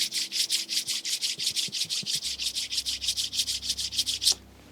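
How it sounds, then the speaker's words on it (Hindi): Two hands rubbing briskly together in a steady, even rhythm of about twenty quick swishes, close and clear, then stopping abruptly. "दोनों हाथों को रब करें।"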